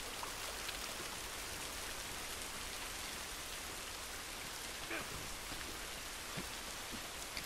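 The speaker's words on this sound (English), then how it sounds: "Waterfall." A waterfall in the video game The Last of Us gives off a steady, dense rush of falling water that holds evenly throughout with no pauses.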